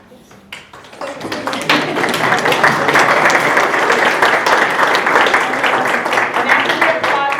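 Audience applause at a STEM awards ceremony, starting with a few scattered claps and swelling within a second into loud, dense clapping that holds steady to the end, with some voices mixed in.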